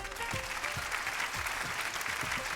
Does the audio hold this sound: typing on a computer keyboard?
no